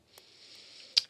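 A quiet noise layer from Reason's Algoritm FM synthesizer: a faint, steady hiss that opens with a short click and closes with a sharper, louder transient tick.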